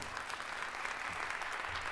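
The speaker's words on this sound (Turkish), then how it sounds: "Alkışlar sevgili Ceyhun Emre Teoman için olsun efendim" A theater audience at a Turkish poetry performance applauds steadily, a dense wash of clapping that stays even throughout without any voices on top.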